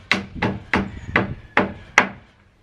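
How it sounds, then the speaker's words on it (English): A hammer knocking a wooden peg back into a rocking chair: six sharp, evenly spaced wooden strikes, close and loud, each ringing briefly before the next. "use our handy dandy new hammer to knock those back in"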